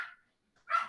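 A dog barks twice indoors, two short sharp barks at the start and end with silence between, faint against a quiet background.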